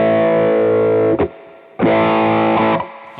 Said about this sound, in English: You've got the filter going, and you've got you've got post distortion compression on full